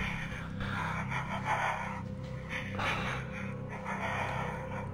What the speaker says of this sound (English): Just someone breathing.